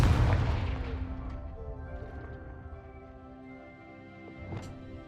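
Confringo fire spell in Hogwarts Legacy, a loud blast at the start fading into a long rumbling decay with a tonal ring, followed by a smaller pop.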